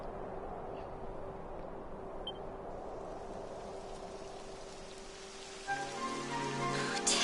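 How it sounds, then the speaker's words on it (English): Soft, steady rain patters in a Dragon Quest XI game scene, a faint continuous hiss with a low hum beneath. Near the end, brighter tonal game sounds swell over it. "It would have to go and start raining, wouldn't it?"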